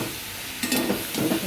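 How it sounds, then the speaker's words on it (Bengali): Garlic spooned into hot oil and spices for a potato and fig (dumur) curry, cooked in a village kitchen, bursting into a sudden sizzle with two stirred surges after a quiet start. "এখন আমাকে রসুনটা দিয়ে দিতে হবে।"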